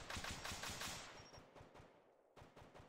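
Rapid bursts of automatic gunfire crack out in close rhythmic volleys during a military combat exercise, fading off and then returning with a sharp burst near the end.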